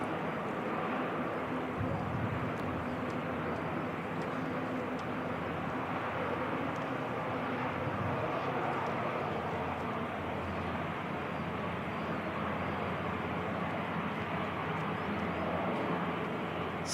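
A Singapore Airlines airliner taxis slowly at Christchurch Airport, giving a steady, fairly distant jet engine rumble and whine that holds unbroken with little change.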